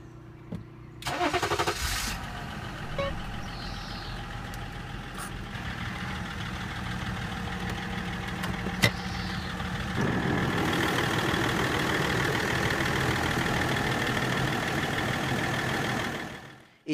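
A left-hand-drive Range Rover with high mileage cranks and starts immediately, then settles into a steady, even idle, with a slight rise later as the engine runs on, heard up close and with no one speaking.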